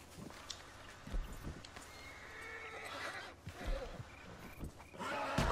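Horses neigh and whinny in bursts amid clip-clop hoof steps and a busy outdoor background, with faint human voices now and then.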